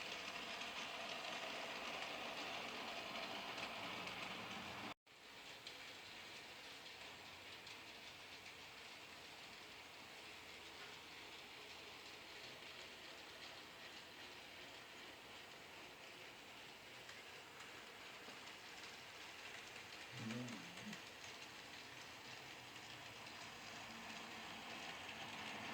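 An HO scale Bachmann DeWitt Clinton model passenger train runs near top speed, giving a steady, dense rolling rattle of wheels on track throughout, with one abrupt dropout early and a faint low knock later.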